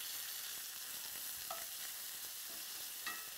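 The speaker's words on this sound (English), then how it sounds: "let me stir my bacon. I can hear it." Bacon sizzles in a pan as it is stirred, a soft continuous hiss with a few faint scraping touches, heard alone without talk.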